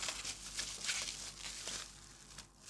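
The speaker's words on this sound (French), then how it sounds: "Je vais la déballer par en dessous." A wrapped decorative ball ornament is unwrapped from underneath, giving faint, close crinkling and rustling of wrapping material in uneven bursts throughout.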